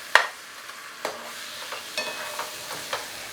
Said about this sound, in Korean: 이렇게 페스토와 그리고 야채, 해산물이 잘 고루 섞일 수 있도록 잘 볶아줄게요